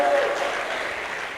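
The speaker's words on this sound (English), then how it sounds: "Please, all the 50 countries, give me a big applause for Kenya, who is our host for your one." A large forum audience from some fifty African countries applauds their Kenyan host, a broad wash of clapping that fades slightly over a second and a half, steady and moderately loud with no voices over it.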